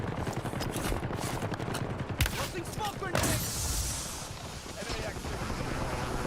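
Gunfire in the Warzone Iron Trials game mode, rapid bursts of shots with wind and rumbling vehicle noise behind them and a voice talking over the top.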